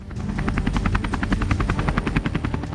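An Indian-built Advanced Light Helicopter attack variant flies close and loud, its rotor blades chopping in a fast, steady rhythmic thump with engine whine, no voices present.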